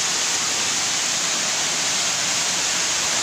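Water gushing from a burst pipe that tore apart the asphalt of a St. Petersburg courtyard, a loud, steady, broadband roar like a waterfall, continuous and close, with no voices.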